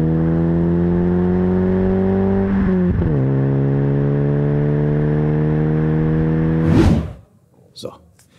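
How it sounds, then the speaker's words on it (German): A 2-litre car with a Hartmann aftermarket exhaust revving: a steady, loud, droning engine tone that rises, dips briefly, then climbs to a sharp peak before cutting off, followed by faint trailing noise. "Wir machen mal einen Einspieler rein von einem Hartmann-Auspuff."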